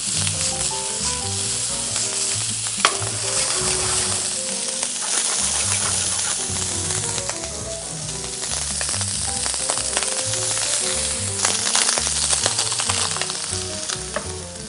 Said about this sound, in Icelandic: Svo set ég skinkuna, steiki hana.